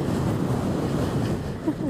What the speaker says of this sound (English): I can fight the wind